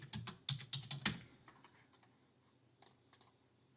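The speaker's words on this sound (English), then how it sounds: "when you go to Google and you type in, let's just say, law enforcement officer SVG" Keys clatter on a computer keyboard as a web search is typed, a quick burst of close, crisp taps followed by a pause and a few last isolated strokes.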